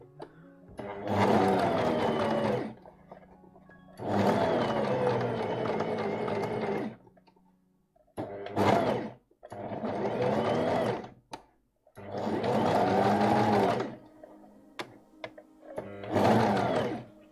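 A domestic sewing machine stitching the dress version of the Deer and Doe Orchidée pattern runs in loud close bursts of a few seconds each, separated by short pauses, with faint handling clicks between runs.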